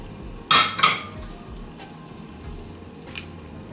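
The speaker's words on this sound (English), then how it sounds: "Then I just stir" A spoon stirring stewed salmon gravy thickened with flour and water in a pot, two sharp metallic clinks early on, then softer scrapes and a later tap over a low simmering bubble.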